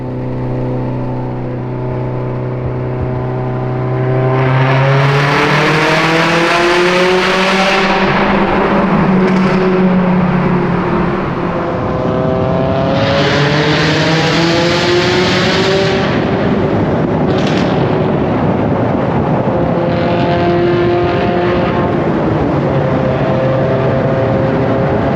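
Cars at a car meet cruise through a tunnel, with engines revving and accelerating in loud, echoing swells that rise and fall over a continuous roar, close by and with no talking.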